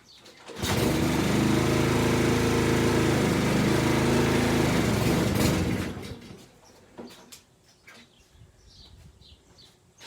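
A lawn mower engine starts abruptly and roars loud and steady for about five seconds, then cuts off, leaving faint clicks and rustling.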